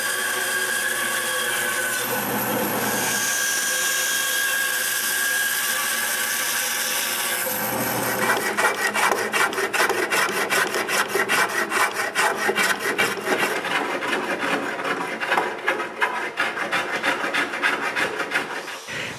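Hand rasping or planing a thick wooden post smooth after Japanese saw cuts, a steady scraping rub that gives way to a rapid, dense run of rhythmic strokes, close and loud with no talk.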